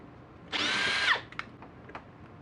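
Makita DHP481Z cordless combi drill with a faulty hammer action, run in hammer mode in one loud whining burst of about half a second that winds down, followed by a few faint clicks.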